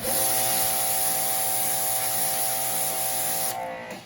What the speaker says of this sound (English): the pressure washer works pretty good here